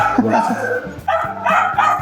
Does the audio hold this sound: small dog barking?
yes